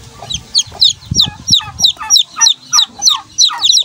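Chickens and chicks cluck steadily and close by, a series of sharp, regular clucks with high peeping chirps, and soft rustling and low knocks underneath.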